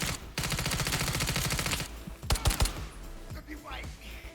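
Automatic gunfire from a weapon with heavy recoil in the video game Incursion: Red River, a rapid burst of shots followed by a few separate louder bangs and softer clicks, all close and loud.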